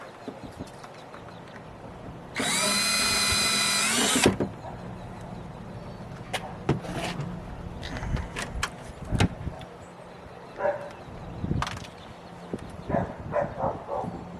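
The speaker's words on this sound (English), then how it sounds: "I'm just going to go ahead and start drilling 2 holes in there." A power drill buzzes loudly for about two seconds, drilling easily into plastic while installing a dash cam in a car, then cuts off, followed by scattered clicks, knocks and handling noises.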